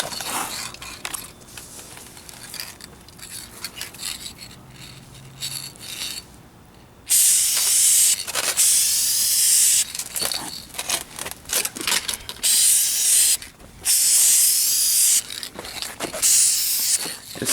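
Duplicolor Perfect Match spray paint goes on as a light tack coat over the rear bumper of a 2004 Kia Spectra: sharp close hissing bursts of one to three seconds between quieter stretches of handling noise and clatter.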